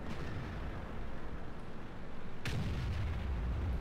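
A tank shell hit in World of Tanks, a sudden sharp heavy impact with a booming tail over continuous battle rumble, loud and close, with no speech.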